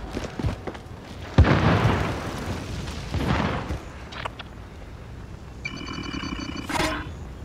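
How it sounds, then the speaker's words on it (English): Call of Duty Warzone gameplay: a precision airstrike sets off a sharp blast followed by rumbling booms, with a burst of electronic beeping near the end. "Got a precision airstrike."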